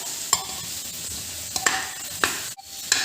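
Boiled potatoes are mashed in a pan during cooking of a potato palak dish, with soft scraping and a few sharp taps of the utensil against the pan over low background noise.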